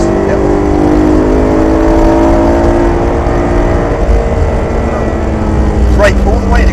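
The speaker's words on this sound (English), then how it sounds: "Squeeze on the throttle, and we can overtake the car in front" A BMW on a circuit accelerates hard to overtake the car in front, its engine loud and close with a steadily climbing pitch, followed by a brief sharp burst near the end.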